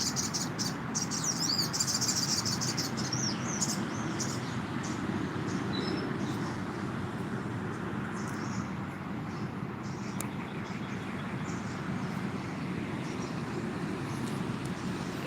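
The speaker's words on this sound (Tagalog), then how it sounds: "Marami kayo naririnig na huni ng ibon guys." Outdoors on a morning, birds call and sing among a steady insect-like chirring, with a few brighter chirps and trills early on over a continuous dense background chorus.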